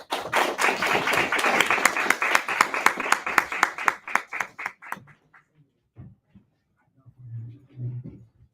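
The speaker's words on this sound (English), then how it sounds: "let's welcome them with a round of applause" A room of people applauds to welcome several men to a table at a community discussion event, steady loud clapping for about five seconds that thins into scattered claps and dies away, followed by faint murmuring.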